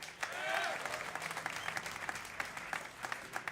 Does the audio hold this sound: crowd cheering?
yes